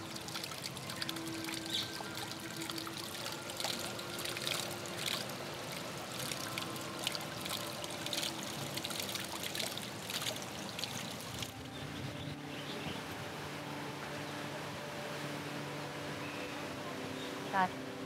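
Spring water pushed by pumps from a natural spring flows through a garden on Porto Santo, giving a steady, soft trickle and pour under ongoing voices.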